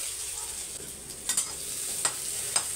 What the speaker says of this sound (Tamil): பூண்டு பாதி நல்லா வதக்கி எடுத்துக்கோங்க